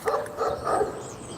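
A dog barks in short repeated bursts, moderately close, over a steady background murmur.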